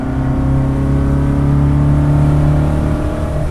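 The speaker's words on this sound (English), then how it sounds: "It really likes to rev, though." A BMW 2002 resto-mod engine pulls hard and revs high, heard from inside the car as a loud, steady, rising engine drone that holds for the whole stretch.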